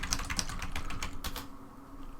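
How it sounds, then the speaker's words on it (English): Rapid keystrokes on a computer keyboard while entering data into a spreadsheet, a quick run of close, crisp clicks that stops and leaves a quiet room. "I'll start with just typing in something like date here"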